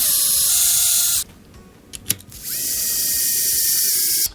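Mechanical ratcheting and whirring as screws are driven into an Arrma RC car body during a Felony 6S to Infraction body swap, two close, steady runs of buzzing separated by a short pause with a few clicks and knocks.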